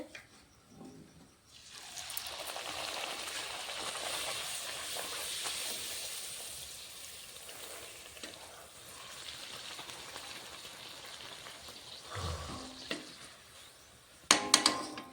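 Luchi, rolled puffed flour bread, frying in hot oil: a loud, steady broadband sizzle starts after a quiet second and a half and runs on, easing slightly, with a few sharp clatters near the end.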